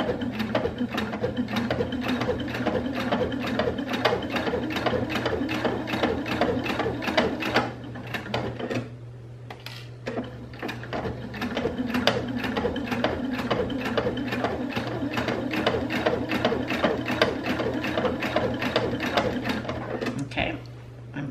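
A sewing machine stitches slowly through a thick layer of doubled curtain valance hems for an envelope pillow cover, giving a steady, close mechanical chatter of rapid needle strokes. It pauses briefly midway, then runs on in the same rhythm.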